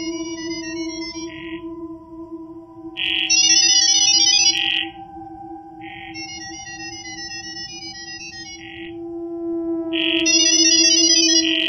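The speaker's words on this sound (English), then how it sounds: "What you just heard is called Gibberlink mode," Gibberlink mode AI-to-AI data signals chirp in rapid bursts of warbling, modem-like tones, repeated several times over a steady background hum, clear and close with no voices.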